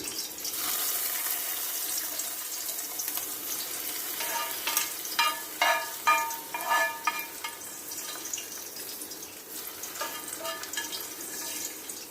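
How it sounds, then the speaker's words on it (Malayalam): Fried mustard seed tempering poured into a prawn curry, giving a steady close sizzle with a burst of sharper crackling spits in the middle before settling back to a softer hiss. "അതിനകത്തോട്ട് നമുക്ക് കടുക് വറുത്തത് ഒഴിച്ചു കൊടുക്കാം"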